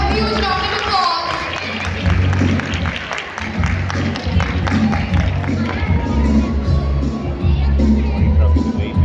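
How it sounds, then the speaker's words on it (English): Audience in Alhamra Hall, Lahore, applauds at a school prize ceremony, a steady wash of clapping and crowd noise throughout, with talk over it. "Give them a huge round of applause."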